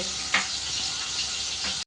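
Fish head frying in oil in a pan, a steady close hiss and crackle with a couple of brief louder spits, cutting off abruptly at the end.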